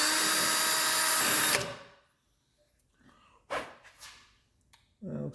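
A 29/64 bit bores loudly and steadily for about a second and a half during a 911 engine teardown, then spins down into near quiet broken by a couple of short handling noises.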